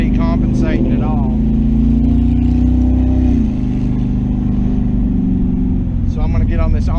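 Car engine with Holley EFI fuel injection accelerating up an on-ramp onto the interstate, a steady loud drone whose pitch rises then dips around a gear change, with someone talking over it throughout.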